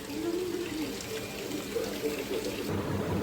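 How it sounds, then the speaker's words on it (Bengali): Water pours and trickles steadily in a hot home kitchen, close and fairly even, with some clattering and faint voices underneath. "এই যে জলও এসে গেছে"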